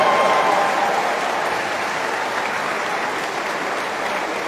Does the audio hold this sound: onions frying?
no